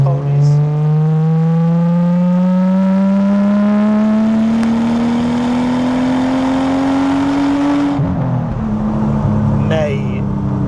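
A Nissan Skyline R34 GTT engine revs loud and close while driving, pitch climbing steadily for several seconds, then dropping sharply at a gear change before pulling again.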